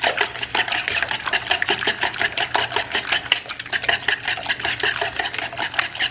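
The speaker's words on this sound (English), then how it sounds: "I whisk up the eggs and get the seasonings into the eggs" Fourteen eggs being whisked in a bowl, a steady rapid clatter of whisk against the bowl continuing throughout, close and fairly loud with no talking.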